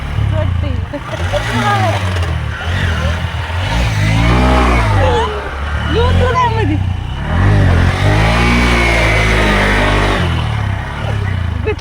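A loaded vehicle's engine drones and labors over a rough, rain-damaged rural road, with pitch rising and falling as it rolls along. Someone talks loudly over it throughout.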